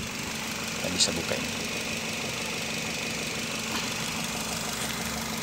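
A Nissan X-Trail engine idles steadily after being started, a constant mid-low running hum with faint clicks and knocks near the start.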